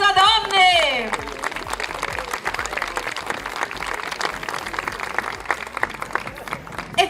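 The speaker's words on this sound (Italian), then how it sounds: "qua voglio un grosso applauso" Audience applause and cheering at a women's beauty pageant, a selection round for Miss Riviera del Brenta 2026 in Calcroci, opening with a voice and music then settling into steady, dense clapping that carries on throughout.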